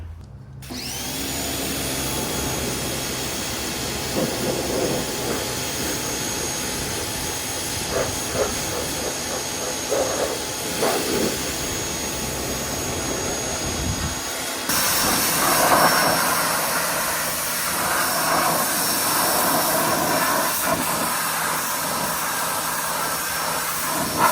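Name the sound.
pressure washer cleaning moss off moose antlers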